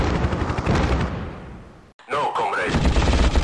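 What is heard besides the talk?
helicopter gun firing in the video game Hind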